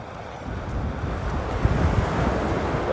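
Sea waves washing onto a beach during a camping trip, a soft continuous surf rush mixed with gusty wind buffeting the microphone, with no voices.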